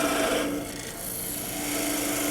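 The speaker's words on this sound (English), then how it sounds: "Come back out, make the cut half as wide." A parting tool cuts into end grain wood turning on a lathe, giving a steady, close scraping rasp that stays loud throughout with a slight dip midway.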